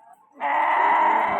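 A black goat at a goat market in Mullanpur Dakha, Ludhiana district, lets out a single loud, sustained bleat close by after a faint murmur.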